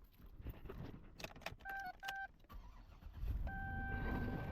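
A GM V8 engine in a Saab-era GM vehicle cranks weakly on a tired battery, a short series of labored starter turns followed by beeping tones and a steady idle-like hum, close and fairly loud.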